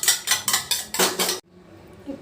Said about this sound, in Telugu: ఎగ్స్ని ఒక్కొక్కటిగా ఇలా బీట్ చేసుకోవాలి